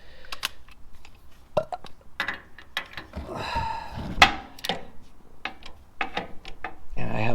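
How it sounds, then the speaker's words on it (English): Torque wrench ratcheting a nut on a Walker Link, heard as a series of sharp close clicks and metallic rattles in irregular bursts, with a denser run of ratcheting near the middle. "And then crank it on with the torque wrench"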